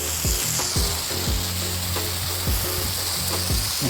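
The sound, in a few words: rinsing deck cleaner off the plants with water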